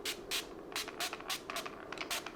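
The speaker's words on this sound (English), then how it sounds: "I'm just gonna use a spray bottle that I usually use for my hair" A hair spray bottle misting water onto a face in a bathroom, with a quick series of about ten soft, airy pumps in an uneven rhythm, close and fairly quiet.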